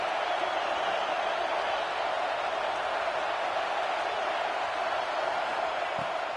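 A football stadium crowd roars in a steady, dense wash of cheering noise with no breaks, loud and continuous throughout.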